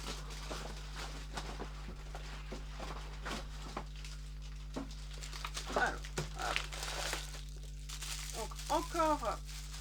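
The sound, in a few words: crumpling protective packing paper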